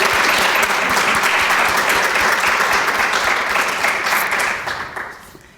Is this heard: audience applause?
yes